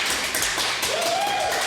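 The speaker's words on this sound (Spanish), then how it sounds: "Un aplauso para nuestra invitada" A TV studio audience applauds a woman guest on a Spanish-language finance show, a dense, even wash of clapping with a faint whistle-like tone rising through it.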